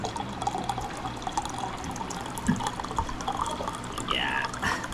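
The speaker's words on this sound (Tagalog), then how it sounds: "Ang ilagay natin ang tubig." Water pours and splashes into a cooking pot on a home stove, a soft liquid trickle with a few drips, fairly quiet.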